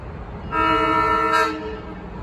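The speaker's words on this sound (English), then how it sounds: "Here comes an outbound Silverliner 4 set heading to West Trenton." A SEPTA Silverliner 4 commuter train bound for West Trenton sounds its horn near a road crossing, one loud, close, sustained chord-like blast lasting about a second over steady rumble.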